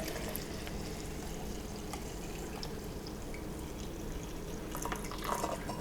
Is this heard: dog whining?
no